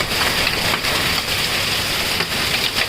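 A heavy Oklahoma summer storm brings hail and rain pounding down in a dense, loud, continuous roar, with scattered sharper impacts from hail striking surfaces such as a car.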